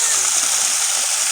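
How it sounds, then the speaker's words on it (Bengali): Water pours and splashes steadily onto a coffee plant outdoors, a continuous loud hissing spatter with no pause. "এই কফি গাছে জল দিচ্ছি।"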